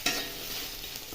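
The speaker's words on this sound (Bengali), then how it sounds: "হলুদটা দিয়ে নাড়াচাড়া করলাম।" A spoon stirs turmeric into chalta, elephant apple, in a hot pan, with a steady soft sizzle and scraping that run unbroken after a sharp first clank.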